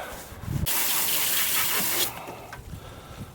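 A regular water hose sprays hard against the body of a 1997 Chevy Astro cargo van during cleaning, a loud close hiss lasting about a second and a half, followed by quieter dripping and splatter.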